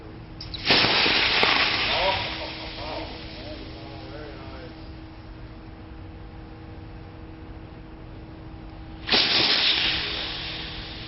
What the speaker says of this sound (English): You just saw the successive venting of the third and fourth cells.